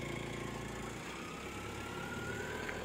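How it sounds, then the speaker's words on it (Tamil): A used car's engine idles steadily at a low, even rumble throughout, close by with no voices, just before being revved. "இப்போ இந்த வண்டியை ரைஸ் பண்ணி பார்த்துடலாம்."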